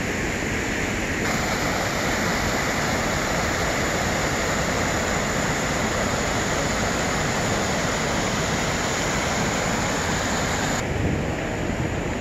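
Creek water flows through downtown Papillion in a dense, constant rushing wash, close and loud, with no pauses and some wind buffeting the microphone.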